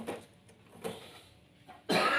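A few short coughs from a nearby man, separated by quiet pauses, then a sharper burst of noise at the end.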